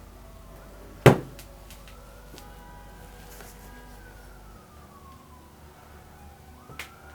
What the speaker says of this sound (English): on the background you can hear the police sirens